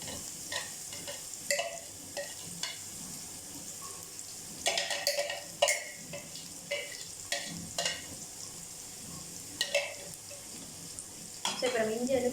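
Ginger fries in oil for a ginger tamarind pickle with a steady close sizzle, broken by stirring scrapes and clatter and a brief louder rush near the end.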